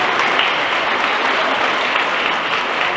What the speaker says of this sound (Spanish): También un fuerte aplauso para él.